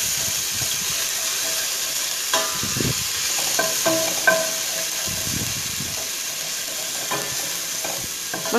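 Garlic ginger paste mixed and cooked in a pan for chicken corn soup, a soft continuous sizzle with intermittent spoon scrapes and clinks against the pan, close, without any talking.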